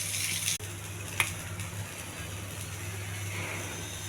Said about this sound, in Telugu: ఒక సిమ్లో పెట్టుకుని వేయించుకోవాలండి.